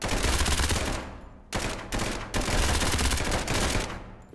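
Video-game gunfire in an SCP game: dense, loud bursts of automatic fire with two brief pauses, sounding close and harsh, with no talk over it.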